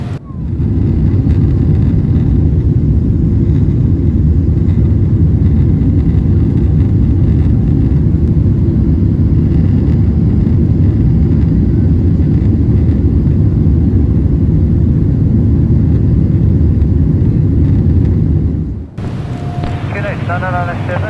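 An airliner takes off in Microsoft Flight Simulator, a loud, steady engine roar that holds constant for most of the clip before cutting abruptly to a quieter cabin hum.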